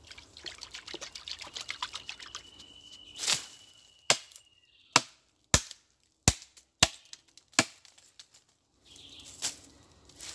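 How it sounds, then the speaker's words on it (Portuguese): A small hole is cut into a bamboo stalk in the forest with about eight sharp, separate chopping knocks at an uneven pace, close and loud, after a stretch of faint trickling water. "Vou fazer um furinho aqui agora."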